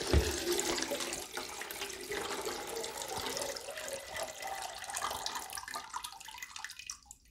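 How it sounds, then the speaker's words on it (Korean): Water drains and trickles steadily out of a freshly watered office plant pot, a continuous close splashing flow that thins toward the end. "이렇게 물을 빼가지고 여기다 이렇게 내려놓습니다. 이렇게 되면 물이 빠지죠."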